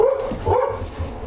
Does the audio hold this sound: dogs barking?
yes